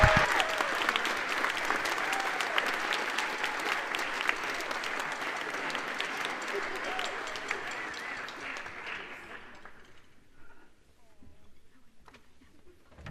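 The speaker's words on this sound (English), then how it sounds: "round of applause for that outstanding accomplishment" Audience applause at a high school spring band concert, a dense sustained round of clapping that fills the hall, then thins out and tapers to scattered claps.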